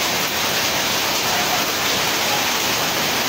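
Hail pours down in Maroangin, Enrekang, a dense, loud and unbroken hiss of falling ice that fills the whole moment with no voices.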